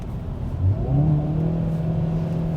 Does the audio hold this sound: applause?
no